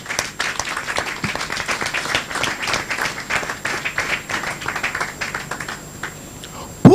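Church congregation clapping and applauding in praise of the Lord, a dense, sustained patter of many hands filling the room, steady for several seconds before tapering off near the end.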